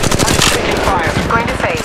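Automatic weapon fire from the mobile battle royale game Apex Legends Mobile sounds in a loud, fast, continuous burst of close shots.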